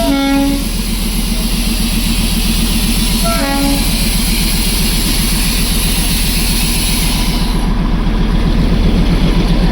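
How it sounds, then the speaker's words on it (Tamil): A heavy diesel locomotive rumbles steadily past close by in Darjeeling, its engine throbbing throughout, with two short horn toots near the start. "இங்கே பாருங்கள், இங்கிட்ட ஒரு ட்ரெயின் இன்ஜின் போகுது"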